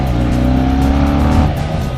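A QJ Motor SRK 250RR motorcycle climbs a mountain road in second gear, its engine droning loudly and steadily under load with rising pitch, close up, while a rider talks over it.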